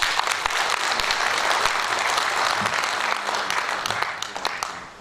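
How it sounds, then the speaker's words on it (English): A sustained round of applause fills a large hall at a lecture on nation building, with dense clapping from many hands that holds steady and then gradually thins toward the end. "He deserves a round of applause."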